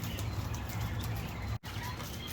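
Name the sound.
birds in cage batteries in a birdhouse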